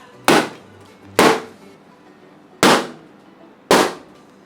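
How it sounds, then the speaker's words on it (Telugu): Firecrackers set off by a laser beam burst one after another, four sharp loud bangs at uneven intervals, each fading quickly into near silence. "ఇప్పుడు చూడండి అన్నిటిని ఎలా పేలుతాం. బాంబులు అయితే వినండి."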